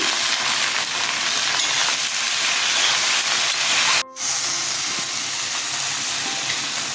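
Okra frying in a pan with salt and turmeric, giving a loud, continuous close-up hiss of sizzling oil that cuts out for a moment partway through and then resumes.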